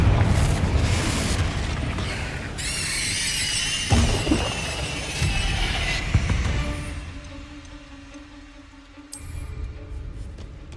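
Confringo blasting spell exploding in Hogwarts Legacy inside the catacombs, a loud boom with crackling, squealing spell effects and a rumbling tail that fades, followed by a fresh burst near the end.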